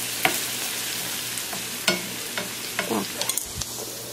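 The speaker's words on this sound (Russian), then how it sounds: "Дадим лучку хорошо так обжариться, чтобы он был мягенький" Onions frying gently in a pan, a continuous soft sizzle broken by scattered stirring scrapes and clacks of a utensil, clustered near the end; no voices.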